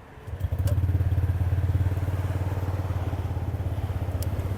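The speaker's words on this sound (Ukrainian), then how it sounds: "Ми запускаємо двигун." A small Japanese scooter engine starts with a brief crank, then settles into a steady, close, puttering idle with a regular low throb.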